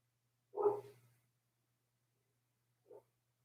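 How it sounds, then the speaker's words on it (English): A dog gives one short, muffled bark from another part of the house, then a second, fainter yip a couple of seconds later, both isolated against near silence. "You can hear my dog barking."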